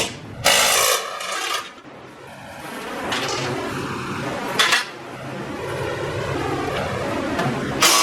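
A 14 mm engine mount bolt comes out of a 2016-2021 Honda Civic 1.5L, heard as close metallic clanks and scraping tool clatter, a few louder knocks among continuous rattling, with no talking.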